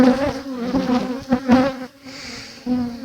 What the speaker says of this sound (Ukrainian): Я тут оточений роєм бджіл.